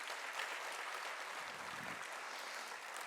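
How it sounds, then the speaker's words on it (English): At a Carnatic music conference on the veena, an audience applauds with a continuous, fairly distant-sounding patter of clapping, quiet overall and steady for a few seconds. "Give me a big round of applause."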